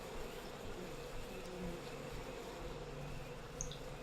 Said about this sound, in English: Oh, beehive.